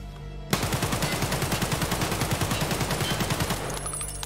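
AK-105 rifle firing full auto in Escape From Tarkov inside the hideout, a loud, rapid, even burst of shots lasting about three seconds, with no talk over it.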